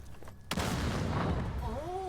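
An explosive detonates in the Second Extinction video game, a sudden sharp blast after a quiet moment that rolls into a sustained rumbling boom, followed by faint rising warbling game tones near the end.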